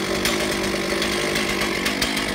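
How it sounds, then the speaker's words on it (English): A gas chainsaw running steadily after being started, a loud close continuous engine drone with slight throttle pulses and no talk. "Once it's fired up, we want to run through to make sure our RPMs are good and it runs smoothly."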